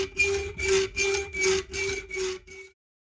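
A threaded metal rod being sawn through on a lathe setup, giving five steady back-and-forth rasping strokes with a faint ringing tone, close and alone before stopping abruptly.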